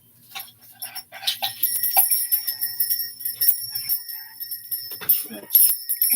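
Hanging bells of the chapel-bell kind, usually hung from a light, jingle and ring close by in bright, shimmering bursts with sustained tones, handled and shaken irregularly over several seconds.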